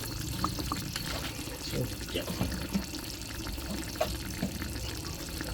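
Fish sauce trickles and splashes softly while seasoning a Thai chicken-under-water dish, a quiet, continuous pour with faint kitchen background and low voices.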